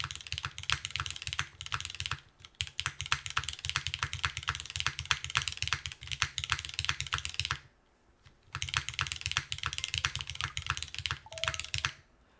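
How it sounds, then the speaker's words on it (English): Typing on a Neo80 Cu keyboard with an aluminum plate and GMK ABS keycaps makes steady, rapid clacking keystrokes close up, with one brief pause partway through and no talk. "All right, let's type. Let's see how this sounds and feels."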